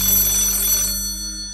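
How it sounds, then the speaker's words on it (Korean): A landline telephone in a shop rings loudly and close by, a bright electronic trill that cuts off partway through and leaves a faint hum behind. "아 요즘 같은 세상에 이런 유선 전화기로 또 전화가 오는구나"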